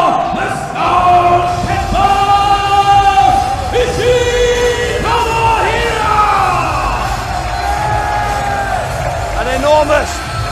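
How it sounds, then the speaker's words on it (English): A Manchester wrestling crowd gives a loud, sustained ovation for Tomohiro Ishii's ring entrance, with whoops, yells and cheering swelling throughout the arena. "Enormous ovation from this Manchester crowd for the Stone Pitbull, Tomohiro Ishii."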